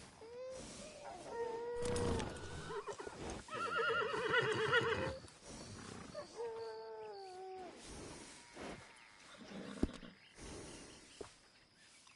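A horse in a PS4 video game whinnies several times in bright, drawn-out neighs with shorter snorting calls between them, loud and close, with no talking.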